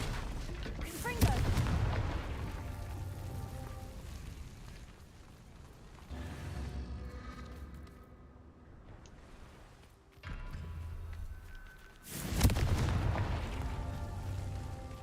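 The Confringo blasting spell going off in Hogwarts Legacy, booming explosive bursts at the start and again near the end, with a rumbling, crackling tail in between, loud and close.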